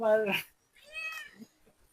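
A cat meows while trying to get at a fish caught from a backyard pond: two close, fairly loud meows, the first strong and the second longer and softer, then quiet.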